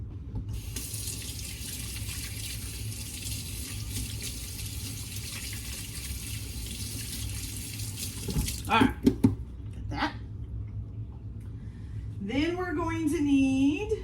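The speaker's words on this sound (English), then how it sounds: "now I gotta wash my hands" Hands washed under a running kitchen tap, a steady hiss of water flowing close for several seconds before stopping, followed by brief clinks and a person's voice.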